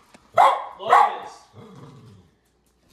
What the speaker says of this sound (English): she's gonna stop barking for the rest of...